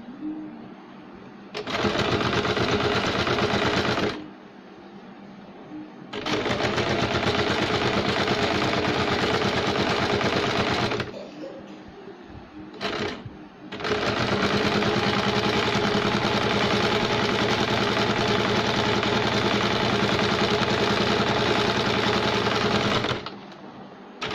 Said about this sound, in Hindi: सिलाई लगाने के बाद फिनिशिंग के लिए हम इसके ऊपर से एक सिलाई लगाएंगे वापस